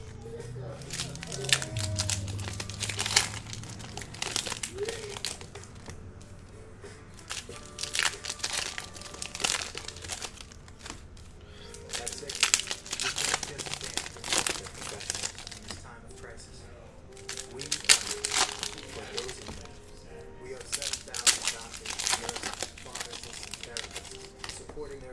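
Packaging of a 2020 Bowman Baseball card box crinkles and crunches in repeated bursts close to the microphone, with someone talking throughout.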